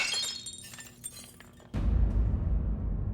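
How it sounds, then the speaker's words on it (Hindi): A glass of water drops and shatters in a Hindi TV drama scene. A sudden loud crash of breaking glass cuts in midway and sprays on for over a second, after quieter background sound. "वो कांच का गिलास पड़ा था पानी का, वो हमारे हाथ से ऐसे गिर गया, वो टूट गया हो"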